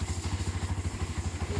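A Bajaj motorcycle engine idles steadily after a stepper motor fix, its low, even pulsing thump close and alone, holding a constant beat without dropping.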